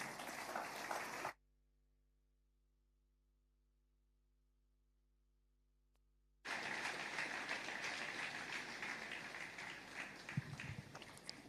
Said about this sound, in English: Join me in welcoming with a round of applause